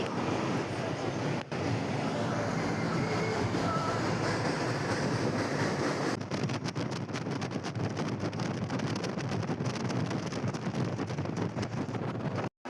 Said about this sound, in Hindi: ट्रेन लाइन पड़ा तो मु ट्रेन देखिली